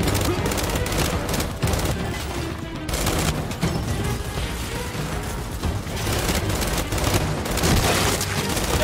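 Dense, continuous gunfire with bursts and booms from the video game Gears 5, loud and chaotic like a battle, rattling almost without pause.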